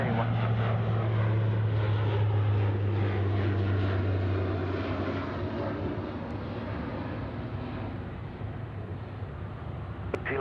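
An airliner, Singapore 231, lands on runway 34 left at Sydney Airport, a loud, steady engine roar with a deep low drone, strongest at first and easing slowly. Radio voices can be heard faintly beneath it.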